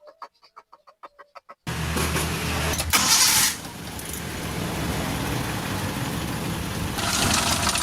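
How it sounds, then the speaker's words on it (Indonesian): A Suzuki Carry 1.0 engine with worn timing-cover bearings starts and settles into a steady, rough, diesel-like idle, preceded by a few short clucking sounds, with a brief louder surge early on. "suaranya kasar banget untuk Suzuki Carry 10. Ini ketika stasioner jelas banget suaranya lur"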